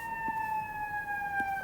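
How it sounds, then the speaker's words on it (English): A siren wails steadily in the distance, a sustained, slowly falling tone that runs through the whole stretch at moderate loudness with no talking over it. "I'm sure you can hear that siren in the background."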